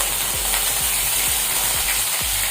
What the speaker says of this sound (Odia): ମୁଁ ଆଜି ଆଳୁ ଆଉ କୋବି ମିଶେଇକି ଭାଜି ଦେଉଛି